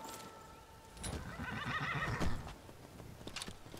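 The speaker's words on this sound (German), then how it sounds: "Pferderuf." A horse in the video game Skyrim lets out a loud whinny lasting over a second, with faint hoof clip-clops around it and no talking.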